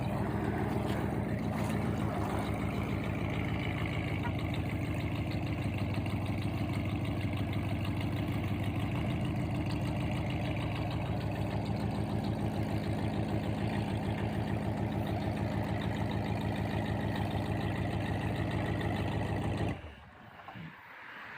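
A 1963 Plymouth Belvedere wagon drives along with a steady low engine drone and road rumble heard from inside, continuous and fairly even, before cutting off abruptly near the end.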